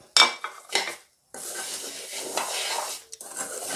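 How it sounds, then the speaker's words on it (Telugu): A spoon scrapes and clinks against a pot while leftover rice is mixed with roasted peanuts, a few sharp metallic knocks followed by a steady rubbing stir close by, with no talk. "బాగా మిక్స్ చేసుకోవాలి మంచిగా చెంచాతో చూడండి"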